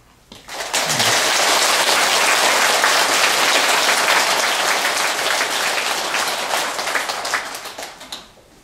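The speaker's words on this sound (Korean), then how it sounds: "스스로 찬탄의 박수를 보내서 다짐해 보시기를 바랍니다." Sustained audience applause fills a Buddhist dharma service at a lantern-lighting celebration, starting abruptly, holding loud and dense for several seconds, then thinning out toward the end with no talk.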